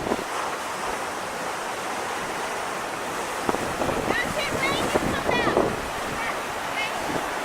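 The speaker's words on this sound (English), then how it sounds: "big surf coming in here. You can hear it in the background." Big ocean surf rolls and breaks on the shore below a coastal hiking trail at Koko Head, a continuous roaring wash heard at a distance, mixed with wind buffeting the microphone.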